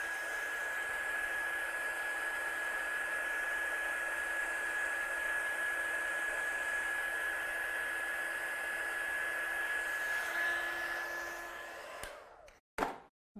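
A handheld heat dryer blows steadily over watercolour-stamped craft pieces, a constant close whir with a high whine for about twelve seconds before it is switched off, followed by a few sharp clicks and knocks.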